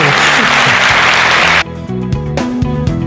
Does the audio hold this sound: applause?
yes